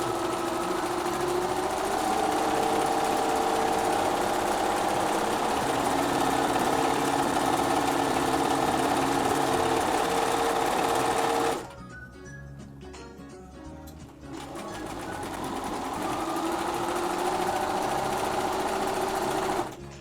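Sewing machine stitching fabric with red thread, a loud, close, steady mechanical whir that cuts out briefly partway through, then restarts and runs again alone.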